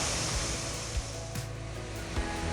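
Whitewater river rapids rush in a loud, continuous roar close by, with small splashing surges on a backpacking trail and no talk.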